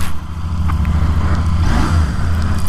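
A Royal Enfield Interceptor 650 motorcycle engine fires up from cold, a loud, close, continuous low rumble that settles into a steady throbbing idle after the start.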